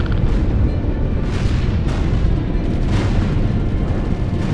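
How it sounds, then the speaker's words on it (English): Heavy gunfire and booming explosions from battle in the strategy video game Ground Control 2, a dense, loud, continuous barrage of blasts and shots with no voices over it. "We are under heavy fire."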